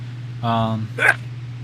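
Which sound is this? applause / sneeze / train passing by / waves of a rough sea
sneeze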